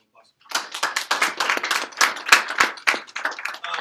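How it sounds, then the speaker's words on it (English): A small audience claps for Jeremy at an introduction talk, sharp irregular hand claps close to the mic lasting a few seconds, thinner than full applause, with no talk over them. "Let's give Jeremy a round of applause."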